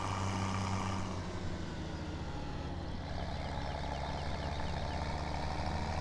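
A 1455 tractor engine in Farming Simulator 17 drones at a steady low idle, a continuous close, moderately loud rumble with no talking.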